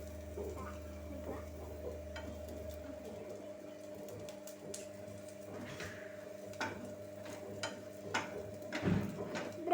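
At home, kids stir and fry food in a pan on low flame, making scraping stirring sounds and a light sizzle over a steady low hum, with occasional clatters that grow louder near the end.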